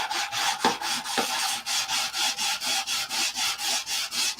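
Wood is sanded by hand in a steady rhythm of rasping back-and-forth strokes, each one a rough scratchy rub. The strokes are close and even, with a couple of sharper knocks near the start.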